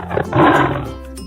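A tiger gives a single loud, rough roar that swells and then fades out over about a second, heard close and alone.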